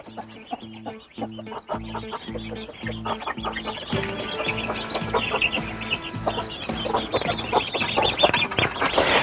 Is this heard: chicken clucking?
yes